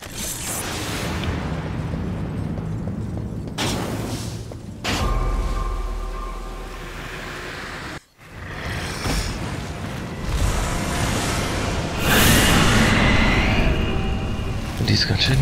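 A bomb explodes in the Darksiders video game, a loud, booming burst among a dense, rumbling mix of game effects that continues for several seconds.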